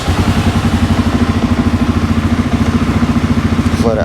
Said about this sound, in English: What we want to do now is just start it up, let it run for a little bit.